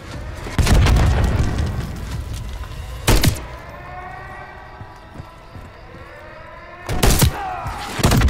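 Heavy booming RPG blasts in the video game Call of Duty Modern Warfare III, three loud bursts spaced apart with a long rumbling tail between them over a low battlefield hum.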